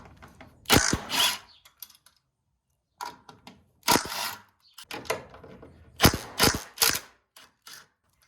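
A ratchet with a 15 mm socket loosening the top nuts of coilovers on a Chevy Impala, several short bursts of quick clicking separated by pauses, close and crisp.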